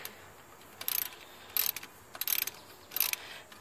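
A ratchet loosening an alternator bolt on a 1982 Trans Am, four short bursts of rapid metallic clicking spaced about a second apart, close and fairly quiet with a faint background hiss.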